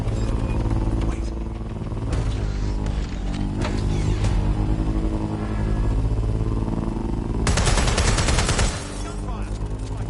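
Gunfire in a video game, heard as loud bursts of rapid shots over droning game music and engine-like rumble, with the heaviest burst near the end.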